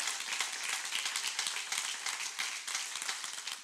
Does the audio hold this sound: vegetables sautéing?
no